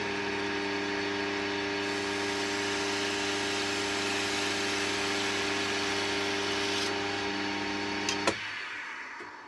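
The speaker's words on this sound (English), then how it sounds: "we're just going to face it off, which is where you poke the end of the skew chisel in and just clean up the end" A skew chisel faces off the end of a woodwind blank spinning on a lathe. The motor gives a steady tonal whine throughout, and a sharp cutting contact comes near the end before the sound drops away.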